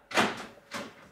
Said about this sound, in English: Doors locked, lights flashing as it should.